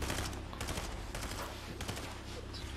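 A video-game bot fires at a player's shield in rapid volleys of automatic gunfire, several loud bursts close together with short gaps between them.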